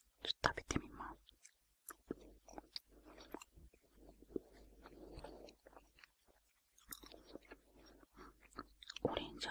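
Close-up crunching and chewing of orange-flavored Japanese educational candy (chiiku kashi) comes in irregular bites and mouth sounds with quiet pauses between, recorded intimately in an ASMR setting.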